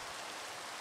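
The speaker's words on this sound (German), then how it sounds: "Ich muss mal kurz den Regen wieder ausschalten." Steady rain falling in the Minecraft video game, an even, quiet hiss of drops with no breaks and no voices.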